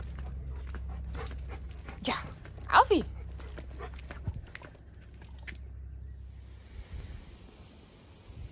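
A dog setting off on a morning walk outdoors, with brief whimpers and a couple of short yelps near the start over a low steady background, while people speak briefly in German.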